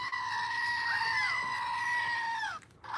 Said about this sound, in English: what's better than one screaming goat? But two.